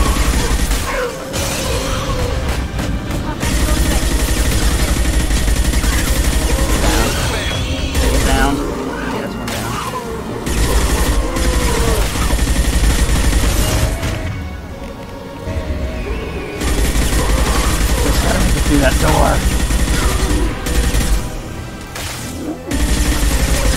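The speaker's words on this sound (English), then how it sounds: "I did not mean to shoot that, but okay." Gunfire in Mass Effect 2, loud bursts of shots mixed with mechanical clanks and game effects, with someone talking over much of it.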